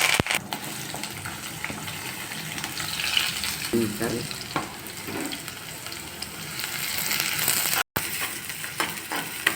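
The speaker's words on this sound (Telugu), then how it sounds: "ఇది కూడా పోపు వేగనిద్దాము." Dry red chillies and tempering spices fry in hot oil for a tomato chana dal curry, a close crackling sizzle with spoon stirring and brief scrapes, no speech.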